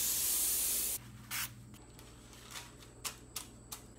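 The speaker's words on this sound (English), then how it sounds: "Now we need to spray the sides and put wax paper on the bottom." A short, loud, hissing blast of cooking spray coats the sides of cake pans, followed by scattered quieter rubs, taps and brief spray bursts as the pans are prepared for baking.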